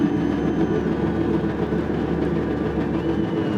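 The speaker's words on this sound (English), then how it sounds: "The revs are up." Several racing car engines in a racing video game revving together on the grid before the start, a dense, steady drone of held revs that stays loud and unbroken, with no voices.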